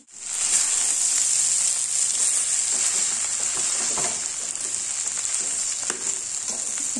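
Cooked vermicelli being mixed into fried onions in a pan for semiya upma, giving a continuous soft sizzle and hiss with faint scraping stirs, close and steady throughout with no talking.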